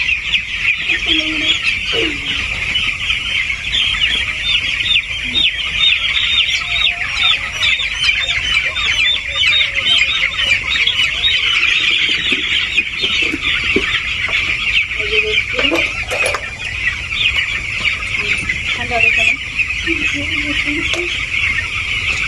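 A crowd of chicks and hens clucks and peeps constantly and loudly throughout as birds are handled one by one for eye-drop vaccination, with a few lower clucks rising above the dense chorus.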